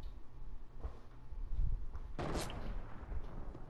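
A single explosion in Fortnite bursts out loud and close midway, followed by a rumbling decay, preceded by a few softer thuds and shots.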